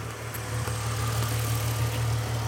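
A Ford Mustang idles close by, its exhaust giving a steady low rumbling drone with a constant, even pulse and no revving.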